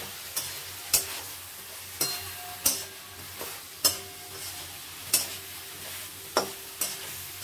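Spices with chili powder fry in a pan for a Bengali spinach chorchori, with a soft sizzle beneath regular spatula scrapes and taps roughly once a second, close and fairly quiet.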